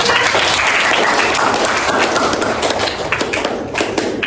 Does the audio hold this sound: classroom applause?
yes